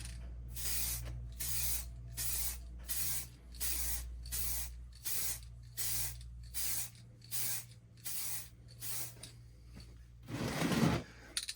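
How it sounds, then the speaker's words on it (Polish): Spray can of primer coating Warhammer miniatures, fired in about a dozen short, even hissing bursts with brief pauses between, close and steady, ending with a rougher rattling burst near the end. "I zaczynamy sprejować."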